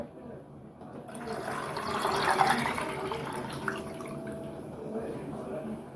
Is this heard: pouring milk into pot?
yes